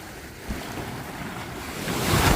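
Small ocean waves wash ashore at a Catalina Island beach with a soft, steady roar and wind buffeting the microphone, swelling slightly louder toward the end.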